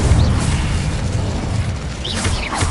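Booming fire-spell blast from the Incendio spell in the video game Hogwarts Legacy, a dense low rumble filling the clip with bright whooshing bursts near the end, no talk.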